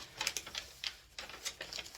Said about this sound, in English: Sorry if that paper's really loud.